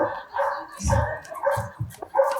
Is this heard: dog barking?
yes